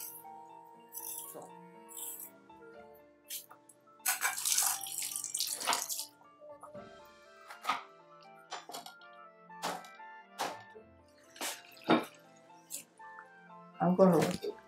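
Tap water runs and splashes while chicken feet are washed in a kitchen for a soup, with intermittent gushes and drips close by; people talk over it.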